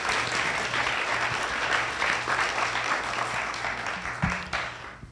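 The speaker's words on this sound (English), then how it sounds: "Round of applause." Audience applause at a film screening and Q&A in Los Angeles, a steady dense wave of clapping that fills the whole moment and tapers only slightly at the end.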